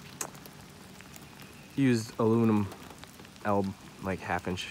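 Rain patters steadily on the surface around a truck topper used for camping, a soft continuous crackle that runs under someone talking close by.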